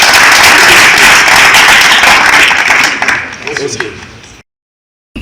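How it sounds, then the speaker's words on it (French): Dense, loud applause from seminar participants in Kasumbalesa fills the room, thinning out with scattered claps before cutting to silence. "Applaudissez."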